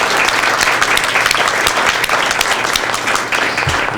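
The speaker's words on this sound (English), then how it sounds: "Let's give her a round of applause." A room full of people applauds, steady clapping at full strength from start to finish, close and sustained.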